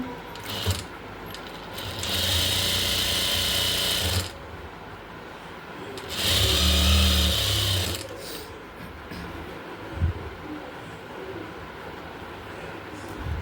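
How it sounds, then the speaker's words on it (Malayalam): Sewing machine running in two separate bursts while double-stitching a seam on nighty fabric, a steady mechanical whir with quiet pauses between passes and a faint click near the end. "ഈ ഭാഗത്തൂടെ സ്റ്റിച്ച് ചെയ്തെടുക്കാം. ഡബിൾ സ്റ്റിച്ച് കൊടുക്കണേ."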